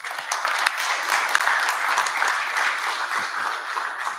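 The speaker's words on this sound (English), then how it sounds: "Can I just get a bigger round of applause," A conference audience applauds steadily at the end of a talk, a dense, even wash of many hands clapping at a moderate distance for several seconds, with no speech over it.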